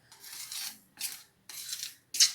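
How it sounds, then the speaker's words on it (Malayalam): Sugar stirred in a pan over a very low flame until it melts into a brown syrup for bread pudding, giving four scraping, rasping metal strokes in a steady rhythm, close and moderately loud, with no talk. "ഇത് നന്നായിട്ട് സിറപ്പായി വരുന്നത് വരെ ഇളക്കുക"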